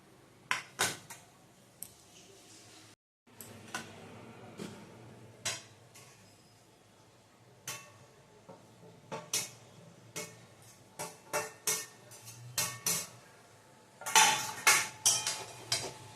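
Fried chicken pieces for chilli chicken go one by one into a pan, giving a series of separate clinks and clatters against the metal. The knocks come at irregular intervals and turn busier near the end, with no talking.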